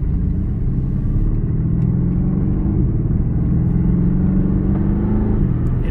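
A Mercedes-AMG GT R driving, heard from inside as a steady, loud low engine rumble and road drone that holds evenly throughout, with no talking.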